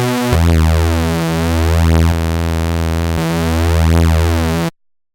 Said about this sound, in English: So this gives us a natural chorusing effect created by the detuning and phase adjustments of these individual